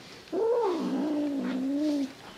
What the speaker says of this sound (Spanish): ¿Por qué me gruñes, gatita?